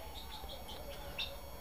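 Quails on a quail farm give soft, repeated high chirps over a steady background hum, faint and fairly close.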